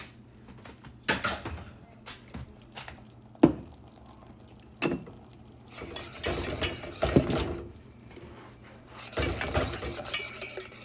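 A spoon scrapes and stirs a pot of sweets on the stove in irregular bursts of clinking and scraping, with quieter pauses between strokes and a faint hum beneath.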